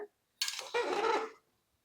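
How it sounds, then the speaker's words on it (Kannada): Masala rice stirred in an opened pressure cooker, a spoon scraping and clinking against the metal pot in a short close burst of two scrapes, preceded by a brief faint knock. "ಕುಕ್ಕರ್ ಓಪನ್ ಮಾಡಿ ಈ ಸಲ ಒಂದ್ಸಲ ತಿರುಗಿಸ್ಕೊಂಬಿಡ್ರಿ"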